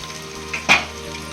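Spices for paneer butter masala, with chili powder, salt, ginger-garlic paste and masala powders, fry in a pan, a soft continuous sizzle broken by a brief louder stir or scrape.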